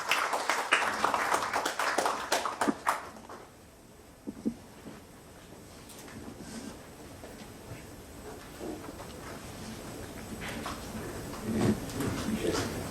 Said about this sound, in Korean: 박수로 맞아보시기 바랍니다